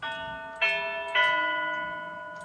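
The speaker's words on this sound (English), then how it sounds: "Chimes on hard mallet." Tubular bells chimes struck with a hard mallet ring out three times, each strike a bright metallic onset followed by a long, sustained, slowly fading tone, close and alone.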